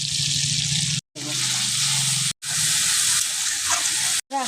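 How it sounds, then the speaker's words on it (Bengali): A paste of onion, garlic, ginger and green chili with Kashmiri chili powder fries in hot oil while cooking a katla fish dish, giving a loud, steady sizzling hiss that is broken by a few brief gaps. "এটাকে আমি ভালো করে একটু কষিয়ে নেব"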